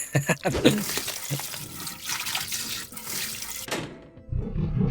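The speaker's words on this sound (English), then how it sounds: "It really sounds more like flushing than eating." A tentacled creature devouring a sacrifice in the horror train game RailGods of Hysterra makes a gurgling, rushing watery swirl like a toilet flushing, steady for several seconds before cutting off.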